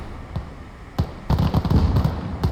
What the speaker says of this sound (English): Get a grenade off. Looks like a good grenade.